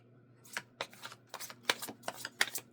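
A deck of tarot cards is riffled and shuffled in quick, crisp bursts, close up and fairly quiet, with no talking.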